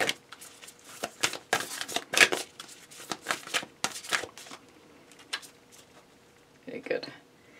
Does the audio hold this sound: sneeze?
no